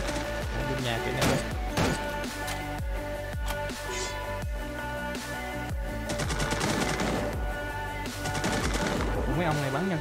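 Rapid gunshots and machine-gun bursts between players in the battle-royale game Free Fire MAX, played in a Vietnamese legendary-rank match, crackle repeatedly and loudly over a steady bed of in-game music.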